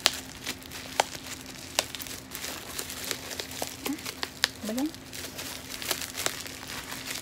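Plastic packaging around a BOYA BY-M1 lapel microphone is crinkled and torn open, sharp close crackles and snaps recurring irregularly, while a person speaks briefly and hums.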